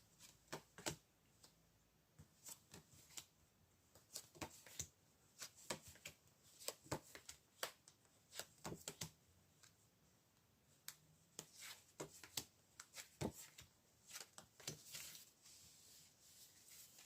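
Tarot cards are shuffled by hand in a long, quiet run of crisp snaps and riffles, close up and steady, with no talking.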